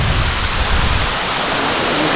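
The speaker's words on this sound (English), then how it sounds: "So we're getting a little splash from the waterfall." A waterfall on the promenade in Nice pours and splashes in a dense, steady roar of rushing water, loud and close, with no voices.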